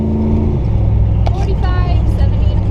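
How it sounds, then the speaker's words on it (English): A Chevrolet Camaro spins its wheels while street drifting in Mexico: a loud, close engine roar with tire noise runs throughout, and voices talk over it. "Oh god, a good wheel spin."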